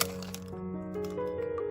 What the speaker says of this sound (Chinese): 打入2个鸡蛋